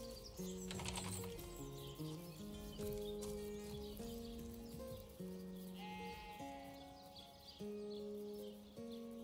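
A sheep's wavering bleats from Divinity: Original Sin rise and fall over a steady bed of melodic game music, with no talk, the tones held and sliding across several seconds.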